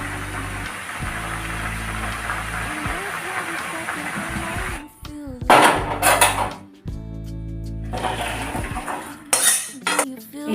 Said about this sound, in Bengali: আমি এবার গ্যাস বন্ধ করে নেব এবং তারপর বাটিতে ঢেলে নেব।